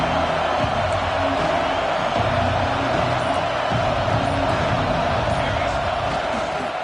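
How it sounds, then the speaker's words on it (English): A large stadium crowd at an Ohio State vs Oregon football game roars steadily, a dense unbroken wash of cheering and whoops that holds at the same loud level throughout. "Listen to the crowd energy here in the early going."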